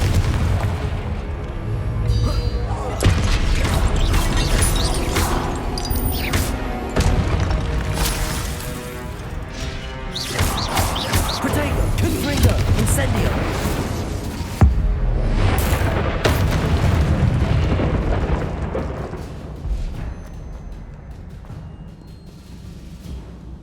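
Confringo explosion spells blasting in the Hogwarts Legacy game, a long loud stretch of booming impacts and crashes stacked over continuous combat noise, easing off toward the end.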